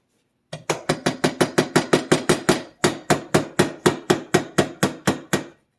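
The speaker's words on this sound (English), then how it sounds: "look for the tapered end, hammer it in the same way it came out" A hammer drives a roll pin into a Hitachi NV45AB2 roofing nailer, striking about twenty sharp, evenly paced metallic blows with one brief pause partway through, loud and close with no talking.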